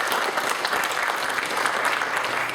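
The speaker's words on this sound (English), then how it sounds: "So big round of applause." Steady, dense audience applause at a business talk in Salmon Arm, a full room clapping continuously and fairly close.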